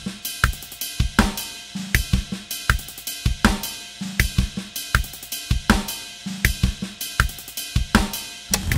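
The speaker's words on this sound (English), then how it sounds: "we're gonna add in some ghost notes and some slight variations to the overall groove." A dense, polyrhythmic drum groove in the style of a rock drummer, filled with quiet ghost notes and small variations between the louder accents, plays continuously and close with no voices.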